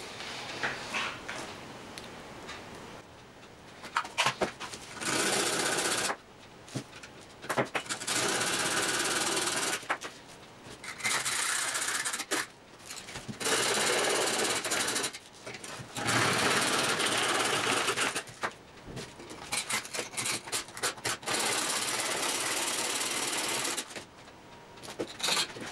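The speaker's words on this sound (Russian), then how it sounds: "А мы продолжаем пилить." Metal is sawn while working on the scope rail of a Smersh R10 air rifle, loud rasping strokes in repeated bursts of several seconds separated by short pauses, close by and with no talk.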